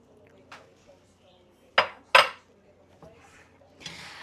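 Three eggs are scrambled in melted butter in a skillet: two sharp, close utensil clacks against the pan stand out among a few lighter taps and a soft scraping rustle.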